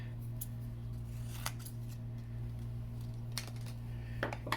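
Scissors cutting a die-cut paper piece for a decoupage blooming rose craft, a few faint, sharp snips spread across the stretch over a constant low electrical hum.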